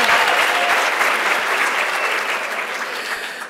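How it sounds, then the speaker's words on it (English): An audience applauds after a presentation on pressure injury prevention, a dense, steady wash of clapping from many hands that slowly fades, with no voices over it. "I think she needs a louder applause."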